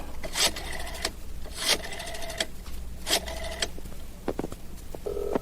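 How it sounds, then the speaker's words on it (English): An old rotary telephone is dialed, giving a series of clicking whirring sweeps with brief pauses between digits, each pulse train fairly clear over a quiet room hum. "I think I'll make a phone call."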